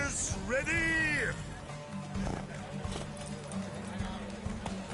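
Horses gallop at the start of a race in The Witcher 3, with rhythmic hoofbeats under a neigh and shouted voices from the riders.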